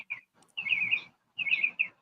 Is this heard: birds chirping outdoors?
yes